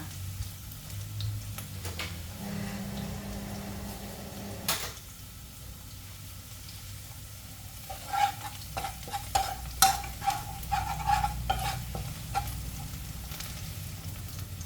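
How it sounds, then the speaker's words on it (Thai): Chopped garlic frying in oil in a pan for a stir-fried kale with oyster sauce gives a quiet, steady sizzle. A clang midway is followed by a run of light taps and scrapes from a utensil. "ใส่กระเทียมสับลงไปเจียวนะคะ"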